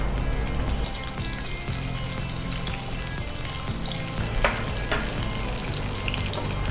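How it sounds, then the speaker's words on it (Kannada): Two small chopped onions frying in hot oil make a steady, even sizzle that lasts throughout, with a couple of faint clinks of stirring and no voices. "ಆಯಿಲ್ ಅಂತೂ ಬಿಸಿ ಬಿಸಿ ಹಾಕಂಟು. ನೀರುಳ್ಳಿ, ಓಕೆ, ಚಿಕ್ಕದಾದ ಒಂದು ಈರುಳ್ಳಿ ತಗೊಂಡಿದ್ದೀರಲ್ಲ, ಸಣ್ಣದು 2 ತಗೊಂಡಿದ್ದೇನೆ. ಅದು ಸ್ವಲ್ಪ ಸರಿ ಫ್ರೈ ಆಗಬೇಕು."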